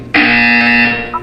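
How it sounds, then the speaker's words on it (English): A single loud, harsh electronic buzzer from a Portal-style video game blares for about a second, steady and close, then stops. "You will hear a buzzer."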